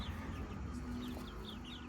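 Backyard chickens on a small farm with goat pens cluck softly at a distance, a few short calls over a steady low hum, with no voices.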